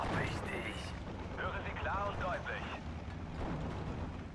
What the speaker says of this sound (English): Another xylophone strike. So much artillery.